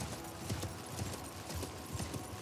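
Horse hooves clip-clopping at a steady trot in the video game Elden Ring, a quiet rhythmic patter of paired hoofbeats under a faint game ambience.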